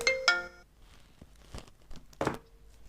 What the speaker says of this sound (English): My partner rang me.